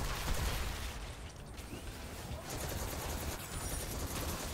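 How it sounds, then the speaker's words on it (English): Destiny 2 gameplay sound of the Monte Carlo melee regenerating, a dense mechanical rattle and clatter amid busy gunfire-like effects, fairly loud and continuous. "That sound for the Monte Carlo melee regeneration is the best sound in the world right now."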